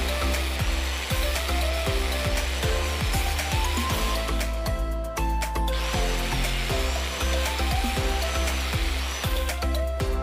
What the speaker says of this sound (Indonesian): ini kita papas dan kita nantikan apa namanya setelah kita papas bagaimana hasilnya